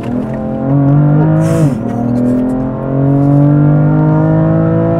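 A BMW M3 F80 CS drifts under throttle, its engine roaring loud and close with a strained, sustained tone that drops briefly mid-slide, then climbs and holds again as the tires slip.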